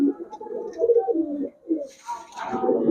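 Pigeons sold for flying and breeding at a pet shop coo repeatedly up close in a low, rolling rhythm, with a brief rustle near the end and no talking.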